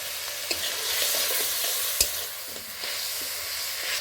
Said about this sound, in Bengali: বাটনাটাকে ভেজে নেওয়া হলো